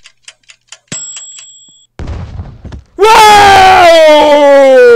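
A bomb ticks in the horror video game Evil Nun 2, a quick run of about five sharp ticks followed by a rumbling burst and a loud, drawn-out wailing shriek.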